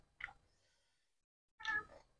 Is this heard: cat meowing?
yes